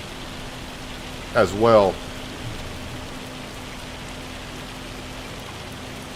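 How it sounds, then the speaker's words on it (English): Hail in Farming Simulator 25 falls as a steady, even rain-like patter across the whole stretch, with someone speaking briefly over it. "That hail is really coming down"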